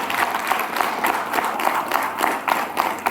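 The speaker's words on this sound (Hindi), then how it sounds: "जोरदार तालियां बजाइए" A crowd claps steadily, with dense, continuous applause at a moderate level and no speech over it.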